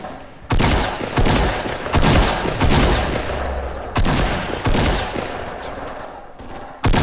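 Loud bursts of gunfire in the video game Fortnite, during a 50 vs 50 match, with repeated rapid volleys separated by short pauses, close and dominant throughout.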